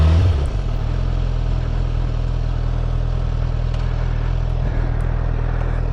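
Honda CBR 1000 RR sport motorcycle being ridden, a steady loud engine drone with heavy wind rush, close and continuous without a break.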